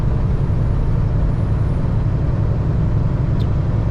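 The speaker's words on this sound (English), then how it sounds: "So yeah, the traffic is moving along." Continuous low rumble of road traffic moving along, a steady dense drone of engines and tires that holds level throughout without any distinct passes or pauses.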